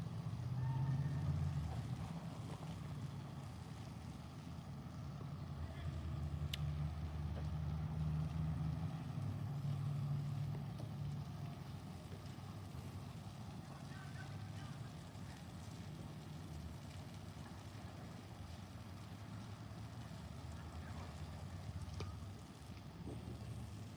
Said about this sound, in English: As the engine sound goes off to the left of me